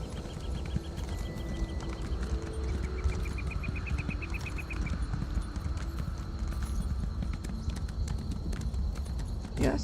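Steady clip-clop of horse hooves at a walking pace over a constant ambient bed, with insect-like chirps and a brief high trill, in the video game Elder Scrolls Online.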